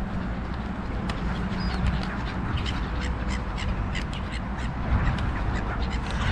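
Several crows caw repeatedly over a steady rushing background where gulls are scarce, calls scattered and moderately distant.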